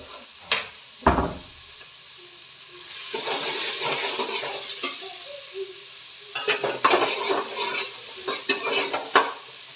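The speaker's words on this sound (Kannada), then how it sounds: "ಜೊತೆಯಲ್ಲಿ ಹೆಸರು ಮೆಣಸಿನಕಾಯಿ ಇದಿಷ್ಟು ಕೂಡ ಇವಾಗ ಫ್ರೈ ಮಾಡಬೇಕು" Onion and green chillies fry in hot oil for egg bhurji, with a steady sizzle and intermittent scraping and stirring clatter of a spatula against the pan, close and fairly loud, no talking.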